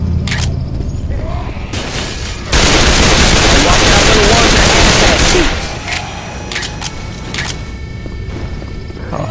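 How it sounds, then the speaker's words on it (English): An explosion from a thrown pipe bomb in a zombie shooter game, a sustained loud broadband blast lasting about three seconds, with scattered gunfire shots before and after. "Pipe bomb, baby. Pipe bomb all the way!"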